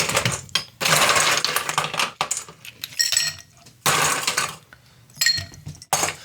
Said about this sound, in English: We toss our ice in there.